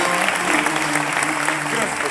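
A studio audience on a Turkish TV show applauds to welcome a federation president as a guest, a dense burst of clapping heard alone and up close.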